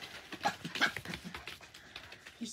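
Miniature Australian Shepherd puppies play, giving brief scattered yips and small squeaky whimpers amid faint scuffling, close by and fairly quiet.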